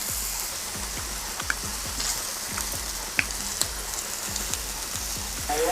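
Slices of pork liver sizzle on a Thai mookata grill pan at home, a steady crackling hiss with occasional small pops throughout, no voices.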